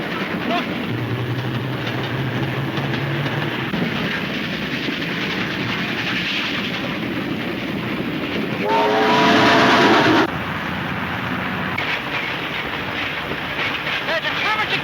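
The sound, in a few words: train running on rails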